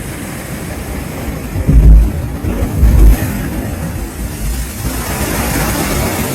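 Ocean waves smashing against a rocky tide pool coast in American Samoa, a steady roar of surf with two heavier crashes swelling up near the start, wind buffeting the microphone throughout.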